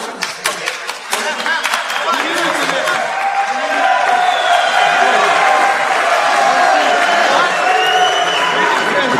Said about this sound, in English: Crowd trying to cheer Zinedine on, and leading the clapping is the corner of GORLOV.